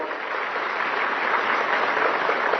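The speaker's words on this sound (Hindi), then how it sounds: "जोरदार तालियां।" A large crowd at a farmers' certificate ceremony breaks into loud, continuous applause, a dense wash of clapping with no distinct individual claps, sounding steady and even throughout.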